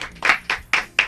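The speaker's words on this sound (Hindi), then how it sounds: "दोनों के लिए जोरदार तालियां।" A few sharp, separate hand claps ring out close by in a loose rhythm for two actresses on a Hindi TV show, sparse and distinct rather than a full crowd.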